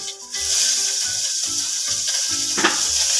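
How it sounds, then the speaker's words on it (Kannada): Chopped onion fries in a pan for millet bisibele bath, giving a steady bright sizzle. Intermittent low tonal bumps repeat in a rough rhythm beneath it, and no one speaks. "ಈರುಳ್ಳಿ ಸ್ವಲ್ಪ ಚೆನ್ನಾಗಿ ಬೇಯಬೇಕು"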